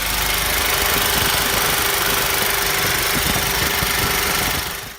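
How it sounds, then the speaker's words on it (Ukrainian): A two-stroke generator engine runs loud and close in a garage, a steady buzzing drone with a knocking vibration that holds level and then drops away at the very end. "шум генератора ще трохи чути"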